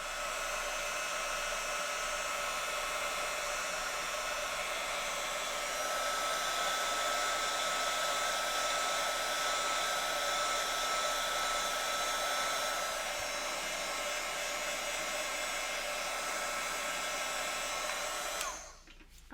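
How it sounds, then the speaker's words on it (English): A craft heat tool blows hot air to set embossing powder, a steady close whirring hum that runs continuously for about eighteen seconds before cutting off. "let's grab some heat and set that embossing powder."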